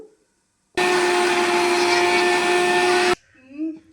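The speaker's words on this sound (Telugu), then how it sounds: "దీన్నైతే మిక్సీ వేసేసుకుందాము" A mixer grinder blends cooled masala into a smooth paste for chicken gravy. It gives a loud, steady whirring roar of about two and a half seconds that starts and stops abruptly, with quiet room sound on either side.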